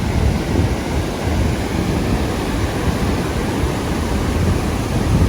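Water pours steadily over the new spillway at the Harpersfield Covered Bridge, a constant, loud, broadband rushing roar that holds without a break from start to finish, close by and with no voices.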